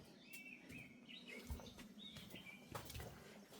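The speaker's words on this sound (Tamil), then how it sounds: "இந்த குருவி சத்தம் உங்களுக்கு கேட்குறதுக்கு எப்படி இருக்கு?" Sparrows chirping and fluttering around a house in a Nilgiri forest village, short scattered high tweets with soft wing flaps, fairly close but light, no speech over them.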